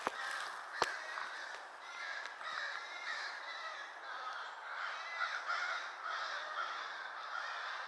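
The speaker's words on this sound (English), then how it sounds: "Look at all them crows." A flock of crows caws repeatedly in the woods, distant and steady, overlapping calls layered over a soft outdoor backdrop, with no voices.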